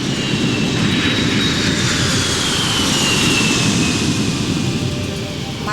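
A B-52 bomber passes overhead as a steady, loud jet-engine roar that holds for several seconds, with a faint whine sliding slowly downward in pitch above it.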